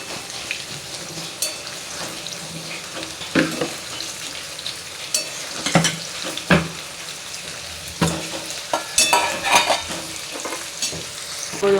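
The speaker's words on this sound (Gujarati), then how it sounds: "અને જો મસ્ત આપણે ભીંડો તળાય છે." Okra (bhindo) frying in hot oil, a continuous bubbling sizzle broken by intermittent clattering stirs of a utensil against the pan, fairly close and loud.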